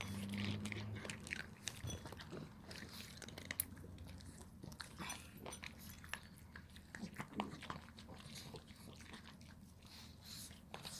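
A Shih Tzu chewing and crunching treats close by, with repeated wet bites and crunches over low background noise, and a soft voice murmuring now and then.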